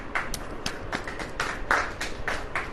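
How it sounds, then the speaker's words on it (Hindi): An audience claps hands together in a steady burst of roughly nine or ten quick, sharp claps, close and fairly loud. "ताली बजाओ"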